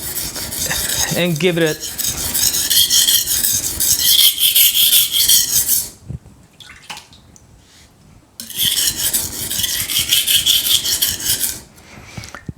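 Steel kitchen knife honed on a Japanese whetstone, steady rhythmic rasping strokes loud and close, pausing briefly midway before resuming, with a few words spoken near the start.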